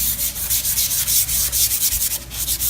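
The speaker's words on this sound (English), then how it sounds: "I'm using one of Annie's sanding pads." A sanding pad rubs back and forth across a painted wooden board in quick, steady strokes, close and scratchy, with no voices.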